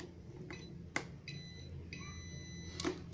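Steady electronic tone from a multimeter in continuity mode, signalling a short circuit or shared connection while tracing motor wiring around a bypassed TRIAC; several held beeps, faint and close, over low room hum with a sharp click.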